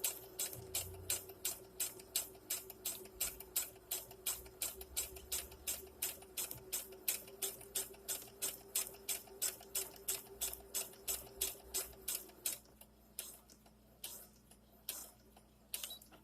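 A sewing machine stitches thick ribbed fabric in a steady rapid run of even mechanical ticks, close and moderately loud, then slows and stops near the end.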